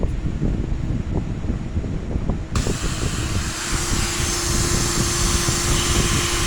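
An old Dremel rotary tool grinds lightly at the edges of a glass tile, a continuous high whirring hiss that shifts to a brighter, harsher grind partway through, close and steady.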